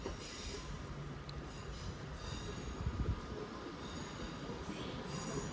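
A Northern passenger train at Manchester Piccadilly station, a steady rumble of wheels on rail with faint squeal and clatter, moderately distant under platform ambience, no speech.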